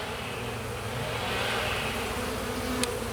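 Honeybees from a hive open for a spring inspection hum in a steady, close, continuous drone without pause, with a faint brief click near the end.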